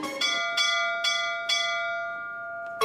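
A cartoon bell rings four times as the lunch signal, four clear evenly spaced strikes with long ringing decay, and a fifth strike cut off at the very end.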